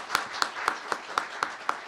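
An audience at a Korean policy meeting claps together in a quick, even rhythm, seven crisp beats sounding close and moderately loud.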